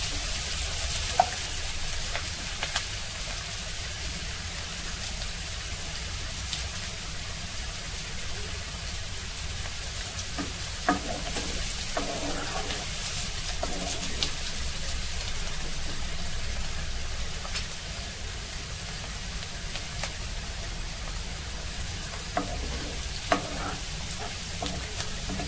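Steady, dense sizzling of onions frying in a hot pan for a tempering, continuous throughout with occasional faint clicks and stirring sounds.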